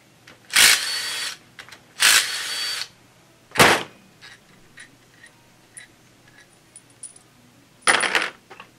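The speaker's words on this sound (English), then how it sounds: "now we're gonna take the pump apart" Hand tools work on a stock automotive pump during disassembly, with several loud, rattling metallic bursts separated by quieter clinks and taps, all close by.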